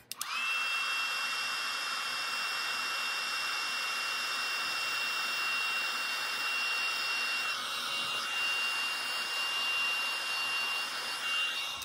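A heat tool for melting embossing powder blows continuously at close range, a loud, even whirring hiss that holds steady with only slight wavers throughout.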